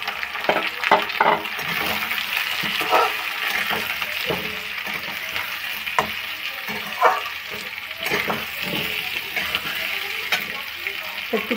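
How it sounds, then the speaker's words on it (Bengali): Cumin seeds tempering in hot oil in a pan for khichuri crackle and sizzle steadily, with scattered sharp pops and spoon stirring, close and fairly loud. "একটু জিরে ফোড়ন দিয়ে দিলাম।"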